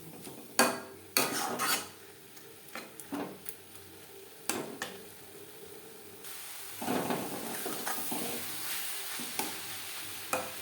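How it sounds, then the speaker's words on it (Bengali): Grated carrots and milk stirred in a pan for carrot laddu, with scattered scraping clinks of a spoon against metal, then a steadier simmering sizzle underneath, no voices. "সাথে গাজর বেশ ভালো করে মিক্সড করে দেবো"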